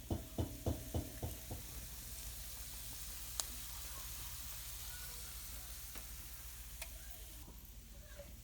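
Chicken sizzles steadily in a hot pan, with a few stirring knocks at the start, then a soft, even frying hiss with occasional faint clinks.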